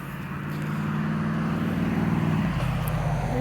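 A car passing on a quiet neighborhood street, with a low engine hum that swells in and stays close, holds for a few seconds, then shifts pitch as it goes by.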